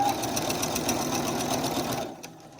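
A sewing machine back stitches across the corner of a bag, running steadily and close for about two seconds before stopping.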